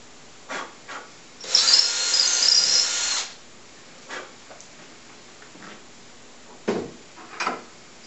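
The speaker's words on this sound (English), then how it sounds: "I'm using a 1/4 inch drill. This is a brad point drill, makes a nice hole." A quarter-inch brad point bit boring a hole in wood for a candle stand, one sustained whirring burst of about two seconds between quieter clicks and handling knocks.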